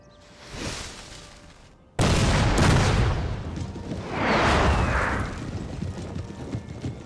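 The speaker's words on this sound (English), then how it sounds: "They sound like proper cannons now." Booming cannon fire in the Napoleon: Total War strategy game, patched artillery sound, with a heavy blast striking loudly after a quieter opening, followed by a rolling second volley and rumbling battlefield noise.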